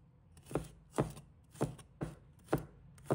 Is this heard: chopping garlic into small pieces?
yes